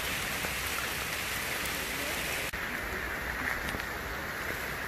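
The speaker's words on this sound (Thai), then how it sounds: "บรรยากาศฝนตกนะคะบรรยากาศฝนตกในป่าในห้วยในดอยเจ้านี่" Heavy rain pours steadily in a mountain forest by a stream, a dense, close hiss of drops with a brief dip midway and no talking.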